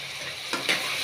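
Chopped tomato and capsicum with turmeric sizzle in a hot pan, a close, continuous frying hiss broken by a couple of brief stirring scrapes.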